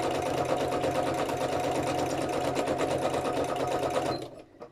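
A sewing machine runs steadily, stitching through a paper button made with fabric, its fast mechanical whirr continuous and close before it stops abruptly near the end.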